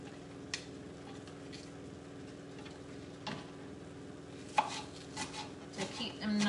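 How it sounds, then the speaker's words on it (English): Spring onions are chopped finely with a knife, soft irregular taps on a board under a steady low background hum, with a few sharper knocks toward the end. "Right, chop your spring onions."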